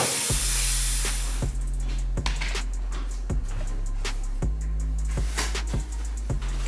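Water runs steadily from a kitchen tap over shrimp being rinsed, a continuous close hiss broken by regular clacks and knocks of handling.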